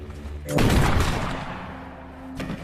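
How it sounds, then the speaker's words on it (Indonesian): A loud gunshot booms, then a reverberating rumble slowly fades, and a second sharp crack follows near the end. "Mendengar suara tembakan tersebut, Maggie pun keluar"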